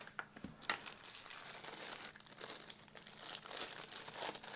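A plastic bag holding a Spyderco Paramilitary 2 knife crinkles and rustles continuously up close as it is handled and unwrapped, with a few sharper crackles.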